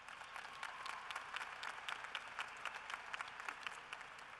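Audience applause at a university fall commencement ceremony, a broad sustained wash of many hands clapping evenly at a moderate distance, steady throughout with no voices standing out.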